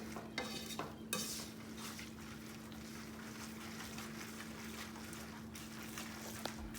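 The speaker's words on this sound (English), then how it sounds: "you just want to make sure you continually whisk through to cook that egg." An egg being whisked continuously in a hot pan with the heat off, giving a steady scraping stir with soft sizzle throughout and a few sharper utensil clicks near the start.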